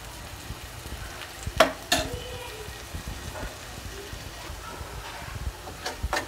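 Green chillies and onions frying in oil for a prawn and cashew masala curry, a steady close sizzle with a few sharp clacks of stirring, with no one speaking.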